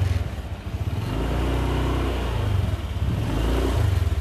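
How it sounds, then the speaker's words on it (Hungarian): A motorcycle engine starts and revs on a road in Bali, with a low, throbbing idle rising into rhythmic revving pulses, loud and close, with no talk. "Beindítjuk a motort."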